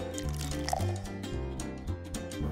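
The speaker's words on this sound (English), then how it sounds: "grab a glass, fill it with ice, then pour 2 shots of bourbon" Bourbon poured into a glass filled with ice for a cocktail, a close liquid gurgle and trickle with faint ice clinks, no talking.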